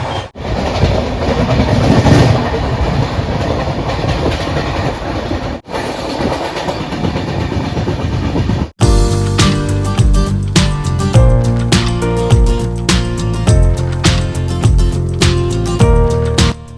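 Shatabdi Express train running towards Farakka junction, with steady loud rumble and rolling wheel noise. After a sharp break the clickety-clack of wheels over rail joints becomes dense and rhythmic.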